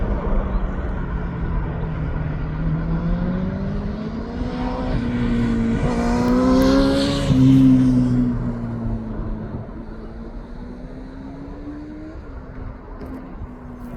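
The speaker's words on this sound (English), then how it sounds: "There goes Tui now off down to Paphos in the Greek islands." A TUI airliner climbs out from East Midlands Airport, its engine roar swelling to a peak midway with shifting tonal whine, then easing off as it recedes into the distance.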